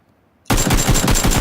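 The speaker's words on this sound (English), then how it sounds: "So I just take a shot and managed to take him down" Loud sustained gunfire in PUBG erupts abruptly after a moment of near silence, a dense burst of shots aimed at an enemy player.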